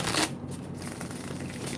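Tarot cards are shuffled close up, with a sharp riffle at the start and then a steady rustling slide of cards that runs without pause and with no talking.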